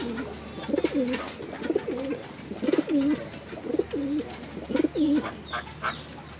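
Pigeons coo repeatedly at close range, soft rolling low calls in a steady series over faint background hiss, with no talking.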